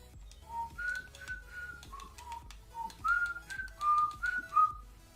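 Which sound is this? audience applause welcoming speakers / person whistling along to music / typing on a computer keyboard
person whistling along to music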